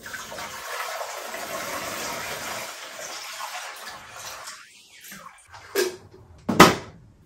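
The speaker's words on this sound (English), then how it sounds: "We'll pour this water in the coffee pot." Water poured into a coffee pot, a steady close-up gushing stream for several seconds that thins out, followed by a couple of short louder splashes or clunks near the end.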